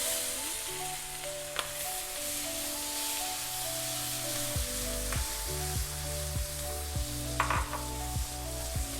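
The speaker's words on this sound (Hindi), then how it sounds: "इसमें हम प्याज डाल देते हैं।" Onions sizzling and crackling in a hot pan with butter for butter chicken, a steady frying hiss broken by occasional stirring clatters.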